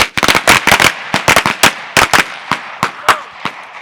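Sharp gunshots ring out during firearms training, a rapid volley of about a dozen close, loud reports that thins into single spaced shots, with no talk over them.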